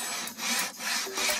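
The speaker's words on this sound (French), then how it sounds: "ça coupe beaucoup mieux" A commando wire saw rasps through wood in three quick back-and-forth strokes, close and crisp, with no talking.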